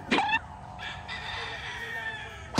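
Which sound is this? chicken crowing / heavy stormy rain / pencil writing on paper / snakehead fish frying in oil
chicken crowing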